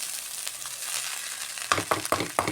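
Chicken fried rice sizzles steadily in a hot pan, then a spatula scrapes and tosses it in a quick rhythm of four or five clanking stirs, close by.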